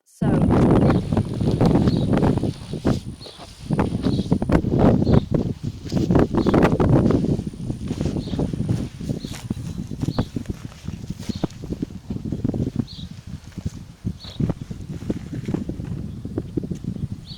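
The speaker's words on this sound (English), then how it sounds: "So it is currently really windy out." Gusty wind buffets the microphone in loud low rumbles in a garden, rising and falling throughout, with faint rhythmic knocking in the background.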